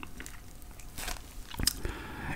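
Crunchy pan pizza crust bitten up close, a couple of crisp crunching bites followed by soft chewing, with no talk.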